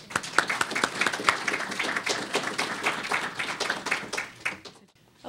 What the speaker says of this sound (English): I want to give Kathy a big round of applause